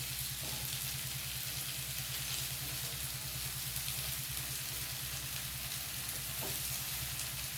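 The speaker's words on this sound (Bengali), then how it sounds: "দিয়ে আবারও কিছুক্ষণ আমি কষিয়ে নেব" Chopped onion greens sauté in a spiced curry of eggplant, potato and flat beans, giving a quiet, steady sizzle with a faint rhythmic bubbling pulse and a couple of soft stirring touches.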